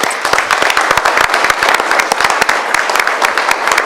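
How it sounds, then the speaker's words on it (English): A city commission meeting audience gives a round of applause, close and loud, with individual sharp claps standing out in a lively, uneven rhythm that continues throughout. "let's give them a big round of applause again"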